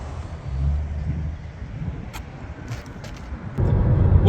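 A car runs at an auto auction, its low engine rumble steady and moderately close, swelling as it pulls away, with a few light clicks and jingles over it.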